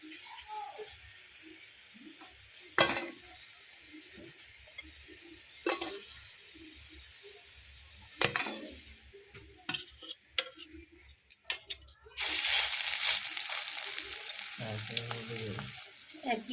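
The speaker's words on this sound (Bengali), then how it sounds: "একইভাবে সব বড়াগুলোকে এইভাবে করে আমি ভেজে নিচ্ছি" Red lentil fritters fry in hot oil with a continuous close sizzle, punctuated by sharp clacks of a utensil and a louder burst of crackling as more batter goes into the pan.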